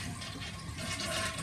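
A household flush toilet flushing after its valve lifts the flapper: steady, close rushing and gurgling water at moderate level, no voices.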